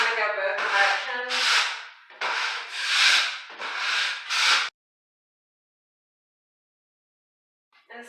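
A drywall knife smooths joint compound across a mobile home wall in five or six close, raspy scraping strokes with a steady back-and-forth rhythm, then falls silent apart from a faint scrape at the very end.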